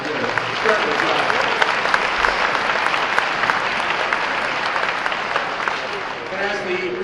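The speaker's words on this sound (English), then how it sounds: "A little round of applause for them." A crowd applauds steadily for several seconds at the Children's Hospital of Pittsburgh's 125th anniversary gala, a dense wash of clapping that holds at a constant level before tapering slightly near the end.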